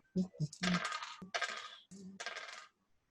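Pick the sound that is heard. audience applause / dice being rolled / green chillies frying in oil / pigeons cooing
dice being rolled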